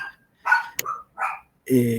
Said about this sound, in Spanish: Sí, así se llama mi perro Titán